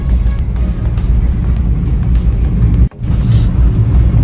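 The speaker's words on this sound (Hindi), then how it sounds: "इस रोड पे ट्रैफिक तो बहुत है।" Vehicles driving along a dense forest road near Gangtok, Sikkim, a loud continuous roar of engine and road noise with a brief dip midway.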